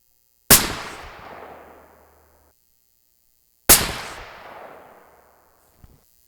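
Two loud .300 Win Mag rifle shots with 230-grain Hornady A-Tip loads and RL 26 powder, fired a few seconds apart at a range, each a sharp crack trailing into a long fading echo, then a faint click at the end.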